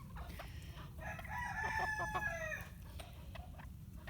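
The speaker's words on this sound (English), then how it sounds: "I have 10 roosters out in the yard right now and about 30 girls." Several roosters crowing with hens clucking in an open yard of melting snow, one long crow rising loud in the middle while softer clucks and distant calls continue around it.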